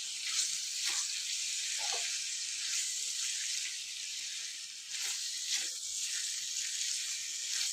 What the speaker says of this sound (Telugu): ఇట్లా 2 నిమిషాలు మంచిగా మనం ఇట్లా ఫ్రై చేసుకోవాలి